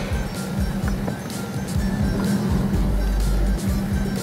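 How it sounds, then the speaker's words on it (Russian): A car stuck with one wheel spinning and slipping, the engine droning low under repeated scrabbling bursts of tyre and road noise, loud and close, with a brief voice in the background. "У нас с другой стороны колесо буксует."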